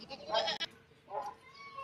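Goats give two short, close bleats, one right after the other, against quiet farmyard background noise with no talking.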